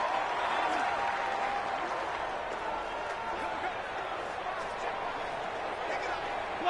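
Steady, loud crowd roar filling a stadium during a preseason Cowboys versus Texans football game, a continuous wash of noise with scattered cheers and talk blended in.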